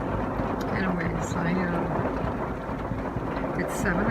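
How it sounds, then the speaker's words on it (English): Heavy rain pours down steadily at 7 p.m. while thunder rumbles low beneath it, a dense, unbroken roar of falling water that fills the whole clip. "It's raining pretty hard"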